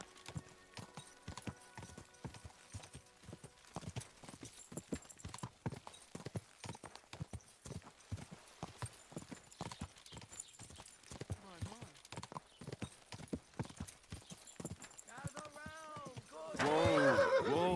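Horse hooves clip-clop in a steady walking rhythm in the video game Peasant Simulator, with a whinny near the end and a louder neigh closing out; a voice speaks briefly over the hoofbeats.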